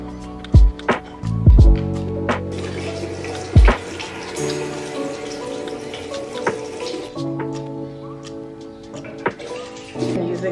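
A bathroom tap runs into a sink while someone brushes teeth and washes their face, with splashing, a few sharp knocks and clatters, and a steady trickle underneath.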